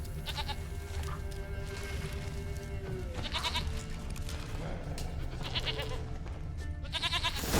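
Goat bleating in The Witcher 3: Wild Hunt, several loud, wavering bleats at intervals over a steady ambient game backdrop, close by.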